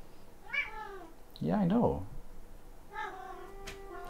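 A house cat meows near the microphone, several drawn-out calls spread across the moment, while someone speaks quietly in between.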